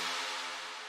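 A bright, sustained lead synth from an electronic dance track's drop plays alone in one steady, dense held tone with stacked harmonics, lasting under a second at even loudness.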